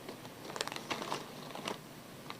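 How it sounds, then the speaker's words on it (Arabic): Vinegar-flavoured Tiger potato chips crunch in a few quick, crisp bursts close up, with faint bag crinkling between bites. "ده كرانش، بيتقطع بشكل كرانشي."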